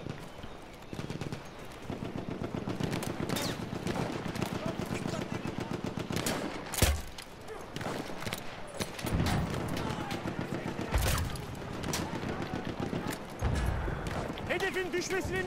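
Rapid gunfire strikes and bursts during a rush match in the World War I shooter Battlefield 1, a dense ongoing rattle of shots mixed with battlefield noise and occasional louder impacts.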